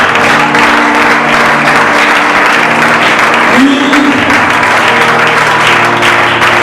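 A church congregation applauds during a sermon, a dense, steady wash of clapping that holds without a break for the whole stretch.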